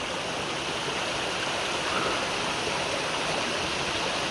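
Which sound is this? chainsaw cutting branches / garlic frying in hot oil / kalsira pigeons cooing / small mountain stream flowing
small mountain stream flowing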